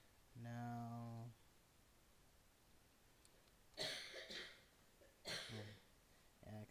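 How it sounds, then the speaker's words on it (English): Close, quiet coughing during a live stream: a harsh burst followed by a couple of shorter coughs with some throat clearing and breathing, with a brief voiced sound at the start. "excuse the coughing, folks"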